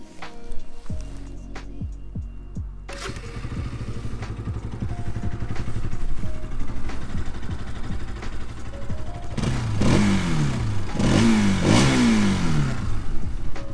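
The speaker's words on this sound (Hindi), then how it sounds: "मैं आपको इसका एग्जॉस्ट का नोट" Bajaj Pulsar 200 NS motorcycle with BS6 engine and iridium spark plug, idling steadily close up before several sharp rising revs of the exhaust near the end, loud and alone.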